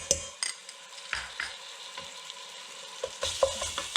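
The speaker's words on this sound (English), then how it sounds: "Cook the garlic for about 30 seconds." Garlic and onions sauté in a pan with a low, intermittent sizzle, punctuated by scattered scrapes and clinks of a utensil against the pan, quiet and close with no talking.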